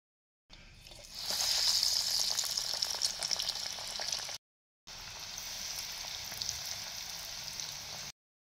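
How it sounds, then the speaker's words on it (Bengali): Hot oil bursts into a loud, dense sizzle as bhetki (barramundi) fish goes into a hot pan, crackling steadily, briefly cutting out, then resuming at a slightly lower level. "তেল গরম হয়ে গেছে। এবার মাছগুলোকে দিয়ে দিই।"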